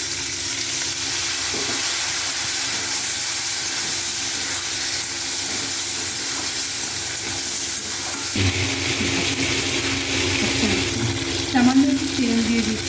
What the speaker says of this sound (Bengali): আলুগুলো ভেজে নিয়ে তারপর আমি কিন্তু কপিগুলো ভেজে নেব।